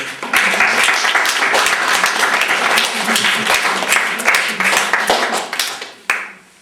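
An audience applauding at a talk on cultural heritage: dense, sustained clapping from many hands, loud and close, tapering off toward the end with a final few scattered claps.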